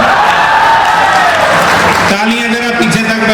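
An audience at a Hindi kavi sammelan poetry gathering in Bhilai claps in a dense, steady patter for about two seconds before it gives way abruptly to someone speaking.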